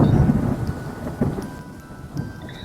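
Low thunder rumbles beneath a steady wash of falling rain, rolling and fading without any voices.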